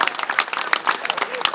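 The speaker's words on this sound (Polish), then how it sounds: "Jeszcze raz gorące brawa dla Asi i Maćka." Warm applause from a crowd at the opening ceremony of new tennis courts in Sędziszów Małopolski, a dense steady patter of clapping heard close up.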